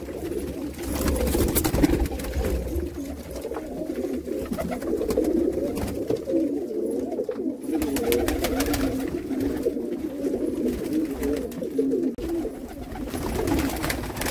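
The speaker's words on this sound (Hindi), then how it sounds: "कबूतर आ गए सारे बाहर अपने जाल में पिंजरे में निकाल दिए बाहर सारे कबूतर को" Slate-grey pigeons, let out of their cage into a netted enclosure at a pigeon sale in Jammu, coo in a continuous, close, throaty chorus of many overlapping birds, with no voices.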